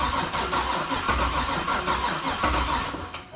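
A supercharged Corvette Z06, long left in a storage unit, cranks steadily for several seconds, its starter churning in a rhythmic pulse close by, without catching or settling into an idle.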